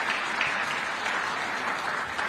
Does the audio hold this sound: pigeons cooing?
no